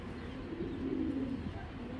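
Low, soft cooing from a Giribaz pigeon, a steady murmuring call of a couple of seconds at close range with faint background noise.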